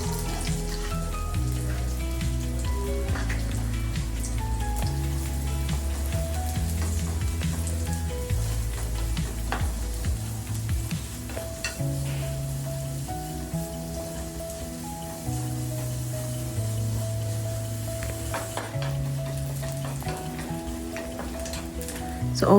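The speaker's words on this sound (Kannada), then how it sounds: "ಸೊ ಅದಾದಮೇಲೆ ನಾನು ಸ್ಲೈಸ್ ಮಾಡಿರೋಂಥ ಆನಿಯನ್ನ ಹಾಕ್ತಿದ್ದೇನೆ." Sliced onions fry in ghee in a pan for chicken sukka, a continuous loud crackling sizzle with occasional stirring scrapes, close by and with no talking.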